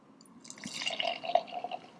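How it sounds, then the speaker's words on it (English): Beer from Anderson Valley Brewing Company, California, pours into a glass in a steady, close, fizzy trickle with light splashing that rises and settles into a bubbly fill, with no talking. "Here's a pour."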